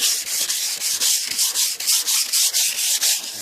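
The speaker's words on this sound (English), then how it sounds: "See, like this, and you sand them down." Hand sanding on the body of a 1988 Cadillac DeVille: a close, brisk series of rhythmic back-and-forth rasping strokes, about a dozen in quick succession, with no talking.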